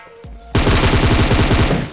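Rapid automatic gunfire in the FAU-G mobile shooter game, loud and close, a steady burst of evenly spaced shots that starts abruptly after a brief quieter lead-in and runs nearly two seconds.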